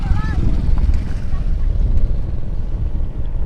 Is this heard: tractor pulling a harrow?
yes